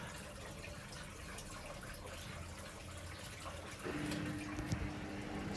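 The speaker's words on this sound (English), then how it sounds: "So you can hear the pump charging there, and racing." The drain pump of a Samsung washer dryer runs, pushing out water. A faint rush of water is joined partway through by a steady whirring hum as the pump kicks in.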